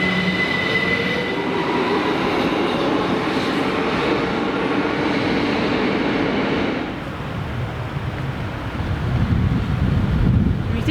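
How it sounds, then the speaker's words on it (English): A London Overground train runs near the Thames Tunnel with a loud, steady rumble and clatter, rail squeal and wind buffeting on the microphone, then shifts to a lower roar as it moves away. "That southbound train there, we just got off the northbound train, it's just come out of that tunnel"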